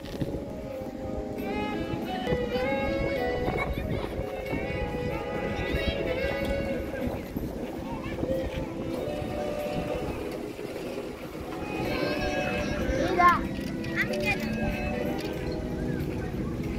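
Hooves clip-clop steadily beneath a horse being ridden at a tourist spot in Egypt, a continuous close rhythm running under people talking throughout, with a brief louder burst near the end.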